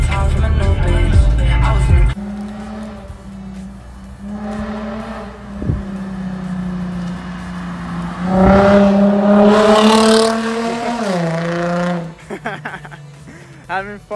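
A car engine hums steadily while driving, then rises in pitch as it accelerates and revs, close and fairly loud, with some bumps and rattles.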